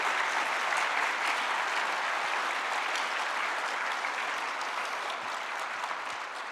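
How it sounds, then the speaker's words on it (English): Steady, dense applause from a large audience, filling the whole stretch at an even level before tapering slightly near the end. "your cheers and your applause was very much appreciated"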